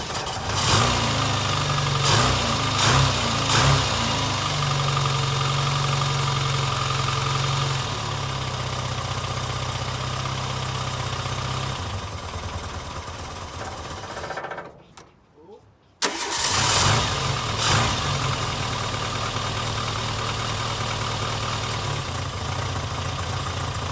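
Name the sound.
Austin Maestro car engine starting and idling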